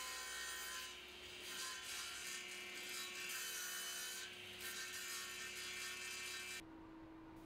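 Oak pieces are cut to length on a saw with a cross-cut sled, giving a faint, steady whirring cut that runs for several seconds and then drops to a quieter hum as the cut ends.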